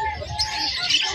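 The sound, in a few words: Euro budgies chirping at Malabon pet market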